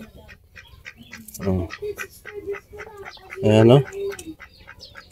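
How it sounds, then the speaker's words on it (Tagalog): Peking ducks on a farm give two loud, close bursts of raspy quacking, with someone talking quietly in the background. "Yan mga Peking duck. Buhay pa pala yung mga Peking duck."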